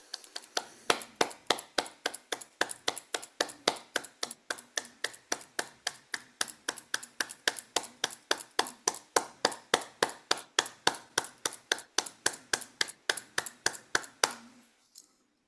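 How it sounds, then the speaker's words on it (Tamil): Slow, evenly spaced hand claps ring out one after another, sharp and distinct with brief gaps between them, sounding like a small group clapping in unison rather than a dense audience, quiet overall and ending abruptly. "எல்லோரும் தயவு செய்து அவரை பாராட்டியும் வாழ்த்தியும் கைதட்டுங்கள்"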